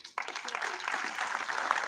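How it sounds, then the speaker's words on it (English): A conference audience breaks into sustained applause, a dense, even patter of many hands, with a faint voice mixed in beneath. "there should be a big round of applause for all of you guys"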